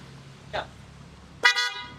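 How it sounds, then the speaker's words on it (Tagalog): After a brief muffled noise, a car horn gives one short, loud honk nearby. "Okay na, may busina na siya ulit."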